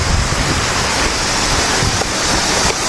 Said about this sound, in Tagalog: May ilog.